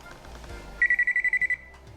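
Electrical voltage tester beeping on a live hot wire during a ceiling fan installation: a quick run of about nine evenly spaced, shrill beeps followed by a short held tone, heard close over quiet room noise with no talking.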